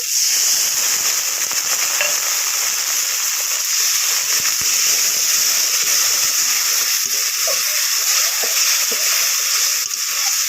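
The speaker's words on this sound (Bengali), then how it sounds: "জল দিয়ে মশলাগুলো কষিয়ে নেব" Spices being fried with a splash of water in a pan, producing a dense, steady hissing sizzle that holds evenly throughout, close and loud with no speech.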